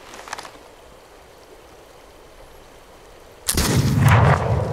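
Gunfire in the open-world game This Land Is My Land: a faint distant shot at the start, then after a quiet stretch a loud, booming blast with a rolling tail.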